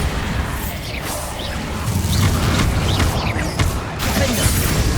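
Bombarda explosion spell in the Hogwarts Legacy video game on PS5: loud continuous combat din with a heavy blast, whooshing swishes and crashing debris over a deep rumble.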